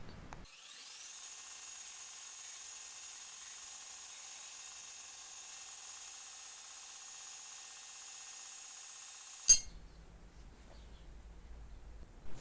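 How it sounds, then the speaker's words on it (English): A power tool cuts off the badly welded threaded section of a vintage Japanese vest-bowie knife tang, giving a steady high-pitched whine for about nine seconds that ends abruptly with a sharp clack, then near silence. "Here I'm cutting off the threaded portion of the tang as it's pretty badly welded on"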